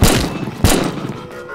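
Two sharp, loud gunshots from a pistol firefight in the VR game Crunch Element land about half a second apart, each followed by a short decaying rumble.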